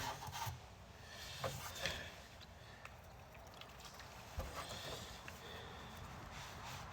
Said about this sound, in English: This is now a bit of 180. You can see it's polishing it as opposed to sort of rubbing it down.